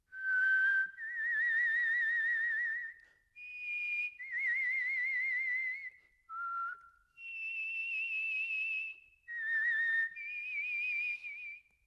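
A master whistler whistles a solo melody, a string of clear sustained notes with gentle vibrato, separated by short breaths and heard alone without accompaniment.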